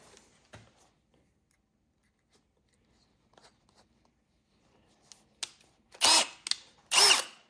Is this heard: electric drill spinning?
yes